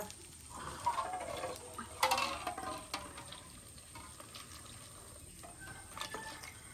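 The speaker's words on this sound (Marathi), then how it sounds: "त्याच्यात पाणी टाक गरम की थंड पाणी" Water splashes and patters into a bowl of flour for ghavane batter, with a couple of louder pours and soft mixing sounds, no talking.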